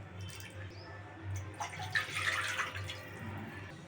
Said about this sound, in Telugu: అదే కప్పుతో రెండు కప్పులు వాటర్ వేద్దామండి